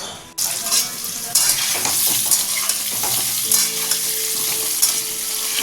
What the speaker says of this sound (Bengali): আমি একদম অল্প করে নিয়েছি লাল লাল করে ভাজাও হয়ে এসছে